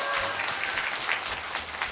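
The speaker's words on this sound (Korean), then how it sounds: "박수 한번 주세요, 여러분" A church congregation applauds in a short burst of dense, steady clapping that fills the room at moderate volume.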